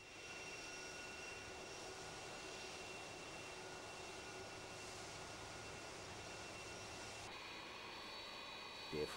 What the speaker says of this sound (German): Der Follow Me, auf Deutsch Einweiser, lotst der Airbus 300 bis zu seinem Standort